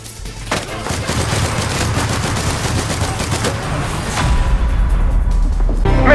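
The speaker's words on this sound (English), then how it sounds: "I don't know where I'm getting shot at from" Rapid gunfire rattles on and off in Cuisine Royale, a dense string of close, loud shots and bursts that swell louder toward the end.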